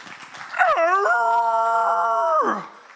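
A voice imitates a dog howling to call its mate from one neighbourhood to the next, producing a single long, loud, wavering howl that rises, holds steady and then falls away over about two seconds.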